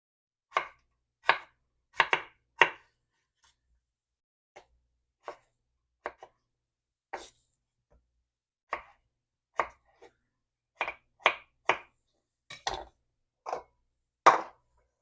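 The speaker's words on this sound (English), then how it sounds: "I'm just going to cut this into bite-sized pieces." A knife chopping corned beef into bite-sized pieces on a cutting board, sharp isolated knocks in irregular clusters against a quiet background, close and clear.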